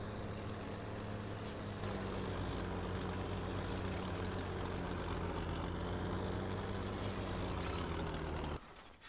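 A steady, droning tractor engine in Farming Simulator 2017 runs at a constant idle, quiet but continuous, with a slight shift in pitch near the start before it cuts off abruptly at the end.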